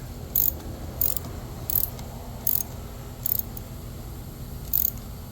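Small hand ratchet snugging a car battery terminal on a 2013-era Nissan Altima, giving about five short, separate bursts of quick clicking over a low steady background hum.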